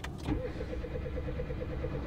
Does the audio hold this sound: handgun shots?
no